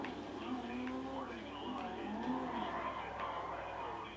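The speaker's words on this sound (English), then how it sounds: "this car can drift actually really good" Tires squeal as a Kuruma slides sideways while drifting in GTA V Online, with the engine droning underneath and a person talking over the wavering screech throughout.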